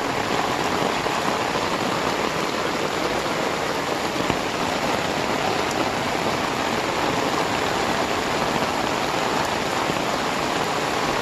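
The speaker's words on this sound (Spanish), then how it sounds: "Solo háganse una idea lo fuerte que está lloviendo, mi gente. Vean cómo corre el agua por acá." Heavy rain pours down on a street with water running along it, a loud, dense and constant hiss of rainfall and rushing flow with no pauses.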